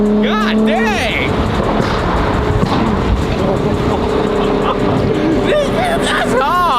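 A Lamborghini sports car accelerates hard during a race, its engine note rising and falling through gear changes at high volume, with voices talking excitedly over the roar.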